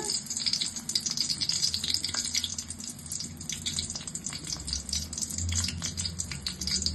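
Bottle gourd flower pakora made with sesame seeds frying in oil in a kadai, giving a steady, close sizzle with faint crackles and pops throughout, no voices.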